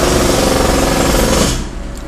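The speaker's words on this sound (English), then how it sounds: "Got a goddamn jackhammer outside." A jackhammer pounds outside with a dense, steady, loud hammering that runs continuously, then cuts off near the end, leaving quieter background.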